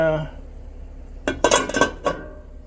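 Camp-oven chicken nuggets and fries are plated onto dishes, with a few sharp clinks and scrapes of utensils against plates arriving in a quick cluster after a brief pause, close and clear.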